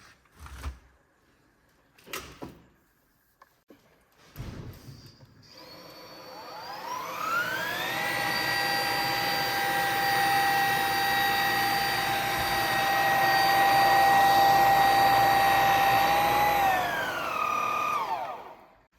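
A Bosch BCS71HYG2 cordless stick vacuum motor whirs up after a few clicks and knocks, holds a steady high-pitched whine for about ten seconds, then spins down.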